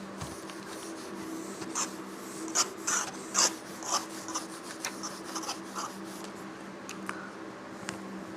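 Pen or chalk scratching steadily while physics notes are written during a class lesson, a dry rasping with short strokes and taps over a constant low room hum; no talking.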